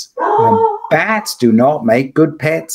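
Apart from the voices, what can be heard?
dog barking and howling at Amazon delivery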